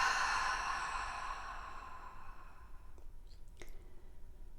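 A slow, breathy exhale during a guided yoga breathing exercise, fairly close and soft, trailing off into quiet room tone with a couple of faint clicks near the end.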